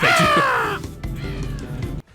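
A person imitates a crow with a loud, drawn-out harsh caw, followed by a lower, rougher second caw that cuts off abruptly, close and alone.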